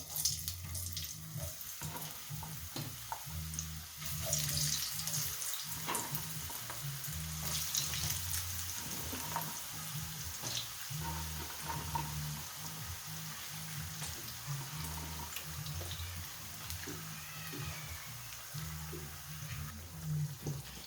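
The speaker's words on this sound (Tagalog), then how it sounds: "So guys, prito na natin ang ating kamote." Steady oil sizzle and crackle from frying sweet potato, constant and close, with a faint repeating low hum underneath throughout.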